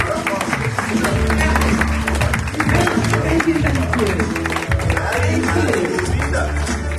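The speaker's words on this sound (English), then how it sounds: "Keep clapping, please." Church congregation clapping in steady rhythm alongside loud music and raised voices, the handclaps forming a continuous, busy layer throughout.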